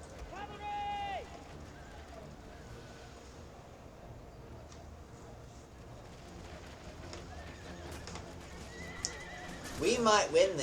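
Horses whinny loudly in The Lord of the Rings Total War, one clear neigh early and a burst of overlapping neighs near the end, with faint hoof clatter and battle noise in between.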